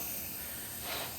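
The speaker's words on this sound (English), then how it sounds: "leak out of the exhaust for some reason." An exhaust leak at a junction on a vintage Datsun 280Z gives a faint, steady, airy hiss that swells slightly near the end, with no voices.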